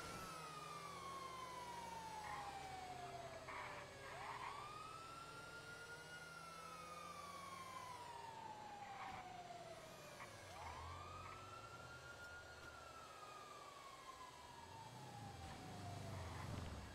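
Ambulance siren in a GTA roleplay video game: a loud, continuous wail that sweeps down and back up in slow cycles of about six seconds, with steady vehicle rumble underneath and no talk.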